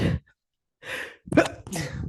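A person sneezes once, loud and close, in an online TOEFL listening class, with a breathy intake before the sharp burst and a brief exhale after it.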